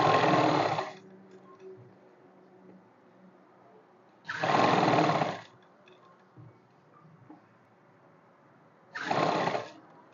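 A sewing machine puts a finishing stitch on a kurti in three short, loud bursts about four seconds apart. Quiet pauses with faint handling noise fall between the runs.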